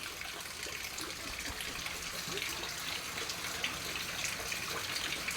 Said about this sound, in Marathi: हे पावसाच्या पन्हाळ्याचं पाणी आहे